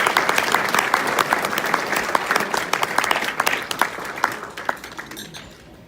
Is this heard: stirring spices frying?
no